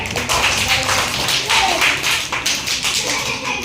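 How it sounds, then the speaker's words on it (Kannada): Children in a classroom clapping loudly together, a dense, steady burst of many small hands applauding close by that runs continuously for several seconds. "ಜೋರ ಚಪ್ಪಾಳೆ"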